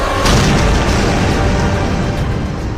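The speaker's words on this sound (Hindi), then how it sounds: "यहां होने वाले धमाके इसकी सिर्फ एक मिसाल है।" Explosions from a warhead strike in war footage from the Russia-Ukraine war form a loud, continuous booming rumble, dense and heavy from start to finish, with no voices.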